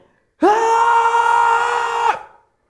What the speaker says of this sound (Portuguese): Você dá um gritão.